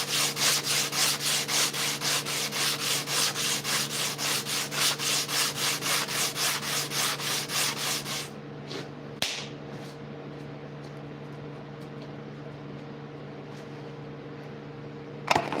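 Wood is hand-sanded with fine-grit sandpaper in rapid regular back-and-forth strokes that stop abruptly halfway through, leaving quiet room noise broken by a couple of faint knocks.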